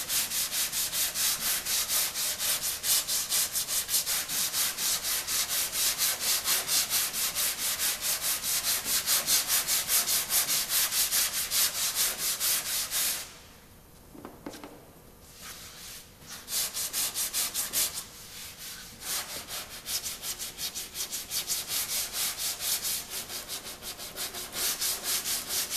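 A sanding block scrubs across an auto body panel in fast, steady back-and-forth strokes, a loud, continuous rasping rhythm close by that stops briefly twice before picking up again.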